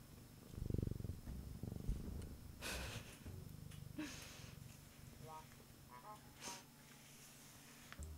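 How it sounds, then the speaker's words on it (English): A house cat purrs softly at close range, a low steady rumble running beneath occasional sniffs and a person talking nearby. "You guys can hear him purr?"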